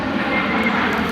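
An airplane passes overhead near Detroit with a continuous broadband engine roar, steady and fairly loud across the short stretch, with no speech.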